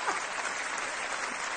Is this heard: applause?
yes